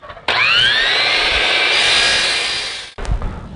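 Power saw trimming a 45-degree edge on a long wooden bookshelf piece: the motor spins up with a rising whine, a loud steady cutting roar for over two seconds, then winds down abruptly.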